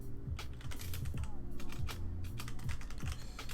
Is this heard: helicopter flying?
no